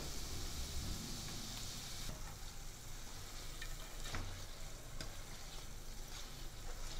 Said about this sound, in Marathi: त्यासाठी कुरकुरीत छोटी भजी तळूया